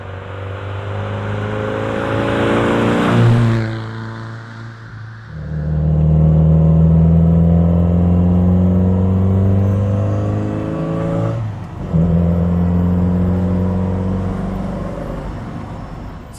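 An MGB GT drives along, its engine and gearbox giving a loud steady drone that rises through the gears, with a brief fade between shifts and a quieter, smoother whir afterward; no voices.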